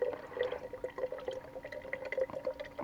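A tap opened just a crack trickles water into a filter, a faint, close, uneven patter of small drips and splashes.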